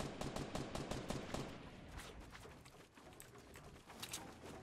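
Rapid bursts of automatic gunfire from a Fortnite Battle Royale match, dense and loud over the first second and a half, then sparser scattered shots and clatter under the ongoing game audio.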